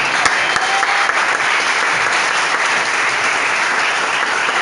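Church congregation applauding, a steady, full wash of many hands clapping together that continues evenly for several seconds in a reverberant room.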